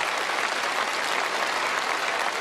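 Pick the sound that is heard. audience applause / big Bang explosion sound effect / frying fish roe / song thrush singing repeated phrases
audience applause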